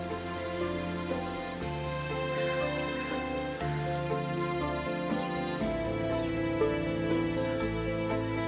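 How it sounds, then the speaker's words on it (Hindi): Steady rain falls continuously, a soft even hiss that runs the whole time beneath a sustained musical backing in a drama scene. "वैसे ही बारिश हो रही है,"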